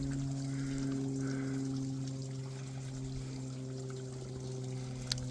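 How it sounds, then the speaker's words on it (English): Water trickles and drips down a rocky cliff face beside a hiking trail on the Appalachian Trail in Georgia, making a faint, steady wet patter under a constant low hum, with no voices. "dripping water."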